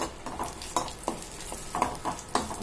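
Vermicelli stirred and frying in a pan while being tempered for sweet dry semiya, with steady sizzling and scraping strokes of a spoon against the pan at close range, no talk.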